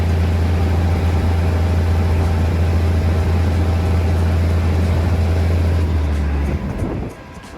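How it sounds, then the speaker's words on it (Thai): Thai passenger train 262 rumbles loudly and steadily with a deep droning hum as it pulls away from Suan Son Pradipat station, the noise easing off in the final moments. "กำลังเคลื่อนขบวนออกจากสถานีรถไฟสวนสนพัฒน์นะครับ"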